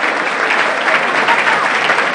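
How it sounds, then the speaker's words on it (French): An audience claps steadily and loudly throughout a French-language news program, a dense, continuous applause with no pauses and no voices standing out. "Est-ce qu'on peut applaudir mieux que ça?"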